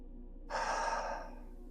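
A single deep inhale drawn in slowly, starting sharply and lasting about a second before tapering off, close and clear against a quiet background, with no talking.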